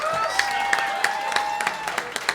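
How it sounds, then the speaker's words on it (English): Audience clapping for a contestant at a convention costume contest: scattered, moderately loud claps with distinct sharp hits over a steady tonal hum, brief and continuous. "Give him another round of applause"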